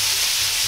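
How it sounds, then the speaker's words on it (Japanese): Bok choy stir-frying in a little oil in a heated pan gives a steady, close, bright sizzle that runs without a break through the short moment, with no voices. "チンゲン菜を軽く炒めておきます"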